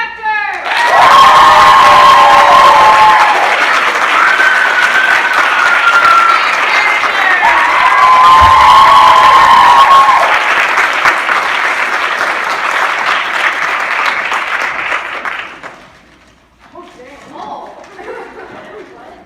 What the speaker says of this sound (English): Can we get a special applause for our director?